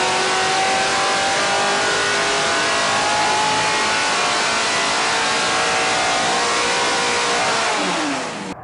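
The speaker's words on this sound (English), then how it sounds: "The motor in this thing is also an OG motor, the Patton family" A Patton race engine in a Newline Ford F-150 pre-runner revs hard and loud with a sustained rising whine that holds nearly the whole time, then drops off abruptly at the end; no talking.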